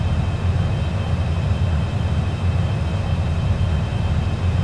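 Steady, loud, continuous roar of an NF-104 SuperStarfighter jet approaching the runway to land, a dense rumbling engine drone with no pauses.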